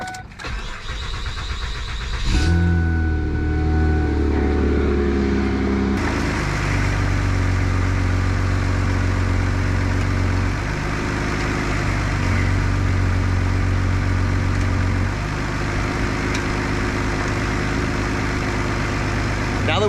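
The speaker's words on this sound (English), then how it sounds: "let's start the engine up, put it through its paces" Ford Fusion engine cranking and catching at about 2.5 seconds, then settling into a steady, loud idle with a low continuous hum and slight revving, right after motor mount replacement work.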